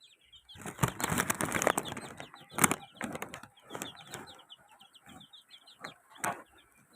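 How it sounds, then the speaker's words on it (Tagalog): Wings flap in several loud bursts as ten black chickens cluck close by, with bird chirps in the background. "mga itimang manok to eh"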